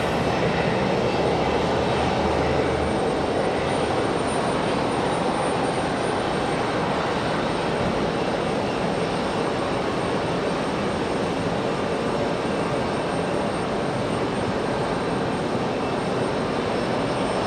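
A United airliner at Raleigh-Durham International produces a continuous, loud jet-engine rush that stays even throughout, with no speech.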